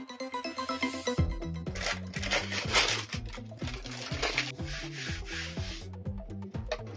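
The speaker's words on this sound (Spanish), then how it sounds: "Junto con la tira de plástico levantamos la pintura en aquellas zonas donde habíamos impregnado previamente la madera con cera" A plastic strip scrapes paint off wood that was waxed beforehand, making rapid rhythmic rubbing and rasping strokes close up, with brief clicking flakes, continuous and loud with no talking.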